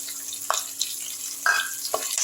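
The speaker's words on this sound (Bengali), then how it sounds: "দিয়ে দিলাম একটু কাঁচা লঙ্কা কালো জিরে গোটা জিরে সব দিয়ে আমি ফোড়নটা খুব ভালো করে একটু ভেজে নিচ্ছি" Green chili, nigella and whole cumin fry in oil for a cabbage dish's tempering, giving a light background sizzle punctuated by a few sharp crackling bursts.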